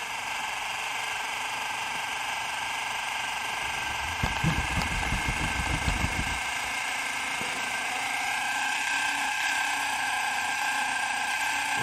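An HO scale boxcab model locomotive's motor runs with slipping gears, a steady mechanical whir holding throughout, with a rougher, grinding burst of slipping in the middle before the hum settles again.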